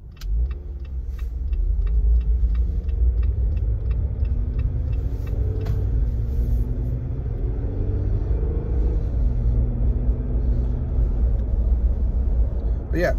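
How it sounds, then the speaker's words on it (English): Road noise inside a moving 2021 Jeep Wrangler Willys with everything switched off, a steady low tire and engine rumble with faint rising and falling engine tones and a few light rattles. "I'm just going to turn everything off so that you can hear the road noise"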